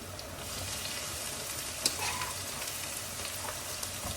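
Greens fry in a pan with onion and garlic, giving a steady, moderate sizzle with a single sharp clink partway through.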